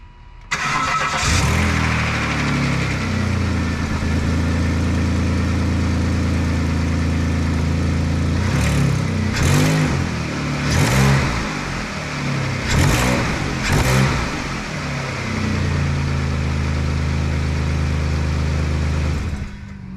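A repaired V6 car engine with new intake manifold and valve cover gaskets, spark plugs and ignition coils cranks and catches, then runs steadily with several sharp revs in the middle before settling back to a smooth idle, loud and close.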